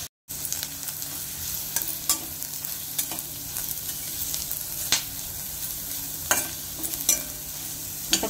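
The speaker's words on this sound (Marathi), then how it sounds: "आता त्यातच मी खोबरं भाजून घेणार आहे" Grated coconut roasts with onion in a hot pan for a dry prawn curry, giving a continuous sizzle broken every second or so by sharp scrapes and clacks from a stirring spoon against the pan.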